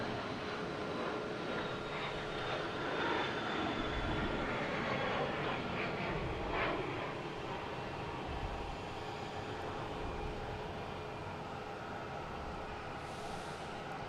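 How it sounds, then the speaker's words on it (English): A jet airplane taking off at Logan Airport produces a sustained, even engine roar that fills the whole stretch at moderate level, heard from a distance. "Just heard that plane take off."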